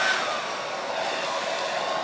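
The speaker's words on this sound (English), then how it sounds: "I'm going to try my hairdryer on the lowest setting" A hairdryer on its lowest cool setting blows a steady, close, loud airy whoosh with a broad even hiss, running continuously without change and with no voices.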